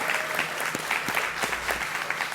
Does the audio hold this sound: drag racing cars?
no